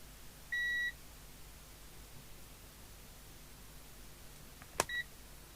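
Multimeter continuity test beeps while checking a Midland 77-104 UK FM CB radio for a short circuit: one short steady electronic beep, then a brief click and a second short beep, over faint background hiss, with no talk.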